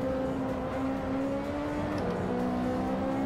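A Ferrari 458 Italia engine in the Assetto Corsa racing game drones loudly and steadily, its pitch easing down and shifting partway through as the car runs at speed.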